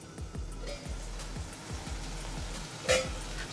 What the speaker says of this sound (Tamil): தக்காளி வெங்காயமாக வதங்கிட்டு இருக்கும்